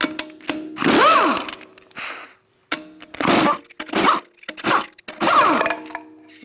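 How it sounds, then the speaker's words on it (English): Hand ratchet with a 19mm socket working lug nuts loose on a 2002-2006 Honda CR-V wheel, heard as several bursts of rapid metallic clicking with short pauses between them, close and fairly loud. "Using a 19mm socket, we're going to remove our lug nuts and remove our wheel."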